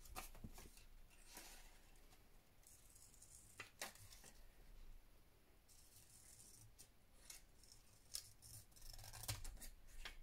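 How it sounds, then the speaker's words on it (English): Scissors snip through paper vintage botanical prints for a file folder craft project, a quiet scattering of crisp cuts and rustles spread across the stretch with no talk. "now I'm going to neatly cut them out"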